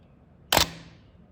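A Bronica ETRS-i medium-format camera shutter fires once at 1/25 second, a single sharp, close mechanical clack with a short rattling tail in an otherwise quiet room.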